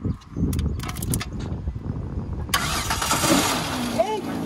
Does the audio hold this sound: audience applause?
no